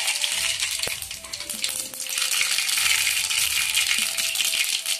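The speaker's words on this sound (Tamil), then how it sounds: "எண்ணெய் காஞ்சிருச்சு கடுகு போட்டுடலாம்" Mustard seeds hitting hot oil in a pan while cooking Tamil prawn masala, a loud continuous crackling and spluttering sizzle that runs steadily throughout with no talk over it.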